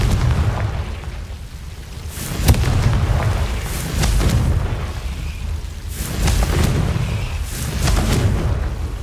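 A Confringo blasting spell in Hogwarts Legacy sets off a series of deep, rumbling booms, several heavy blasts rolling one after another and filling the scene.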